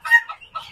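Chickens on a Brazilian poultry farm, penned in stalls of Balão GSB and Caipirão Gigante breeds, clucking nearby in several short bursts with brief pauses between, no talk over them.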